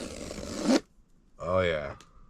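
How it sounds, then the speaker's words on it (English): Someone opens the box of a GoPro 13 Ultra Lens Mod: a brief, close scraping and tearing rustle, then a short pause before a voice speaks. "We're gonna open the box."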